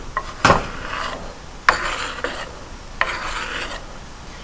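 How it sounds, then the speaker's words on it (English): Potato salad scraped off a cutting board into a bowl, with three or four rasping scoops of a utensil across the board, each beginning with a sharp knock, close and fairly loud, no voices. "When I scoop things off the cutting board, I always like to go in a diagonal angle"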